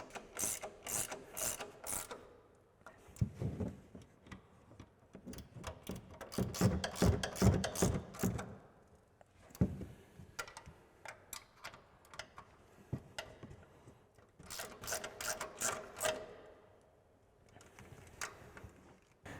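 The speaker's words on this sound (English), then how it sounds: "take a 15mm ratcheting wrench to tighten down our 3 nuts" A 15mm ratcheting wrench tightens three nuts on a front coil-over of a 2014-2018 Silverado or Sierra 1500, giving bursts of rapid, close ratchet clicks separated by short pauses and clinks of the tool.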